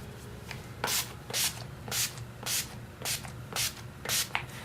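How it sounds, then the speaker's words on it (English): Urban Decay All Nighter makeup setting spray hisses out in about seven short, even bursts, close and crisp, with brief pauses between each spritz. "lastly I'm going to set my makeup with the Urban Decay All Nighter Setting Spray"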